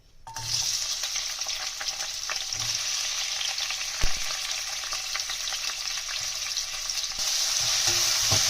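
Onions frying in about a quarter cup of oil in a kadhai give a steady, close sizzle that runs the whole time, broken by a couple of light utensil knocks, with no voices.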